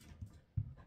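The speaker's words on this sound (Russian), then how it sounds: "Собаки." A dog gives two short, low, muffled huffs or soft barks, close by and fairly quiet, with little else around.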